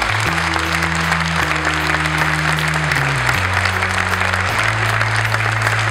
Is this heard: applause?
yes